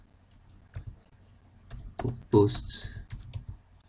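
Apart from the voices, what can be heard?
typing on a computer keyboard in Excel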